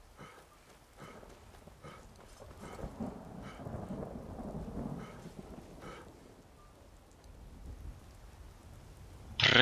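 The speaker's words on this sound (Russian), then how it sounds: "Проклятый дождь, я уже весь промок." Steady rain patters in the video game Skyrim while thunder rumbles low and long in the middle, building and fading, with a sharper crack near the end.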